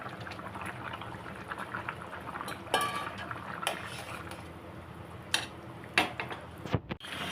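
A pot of elephant foot yam curry bubbles at a steady simmer as kan fish are added, with a constant gurgling boil broken by a few soft splashes and light clinks of utensils.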